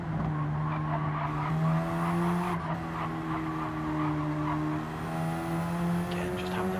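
Tyres on a race car in a racing game during a DSC Premier League round at Alsace Village squeal as they lose grip through corners, a thin high skid running over the car's steady, loud engine drone.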